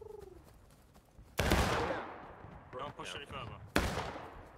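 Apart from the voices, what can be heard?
gunfire in video game War of Rights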